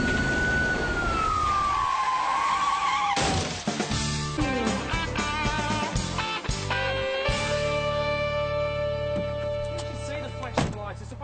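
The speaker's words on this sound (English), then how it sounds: "I had the siren and I don't put on for fun" A police siren wails then sweeps downward, followed by traffic noise, engine sounds and clattering as the siren fades into the background.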